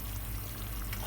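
Hot water pours from a cup into a one-pot chicken thigh dish with onion, garlic, mushroom and paprika, a steady close splashing stream lasting about a second with no voices.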